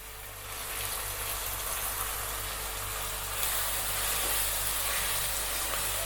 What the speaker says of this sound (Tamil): தக்காளி பழம் நல்லா வதங்கட்டும்.